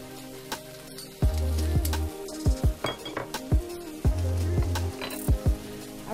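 Chopped onions and fresh ginger stirred in a cooking pot for a Chamorro oxtail soup: repeated spoon scrapes and metallic clinks against the pot over a soft sizzle, with a couple of louder sustained scraping strokes, close and alone.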